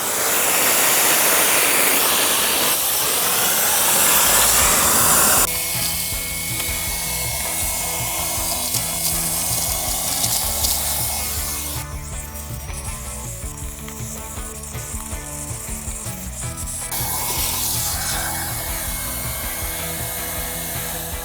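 An EGO cordless wet-dry vacuum runs on turbo, a loud continuous rushing whoosh of motor and airflow that shifts in tone as suction changes, steady throughout with no talking.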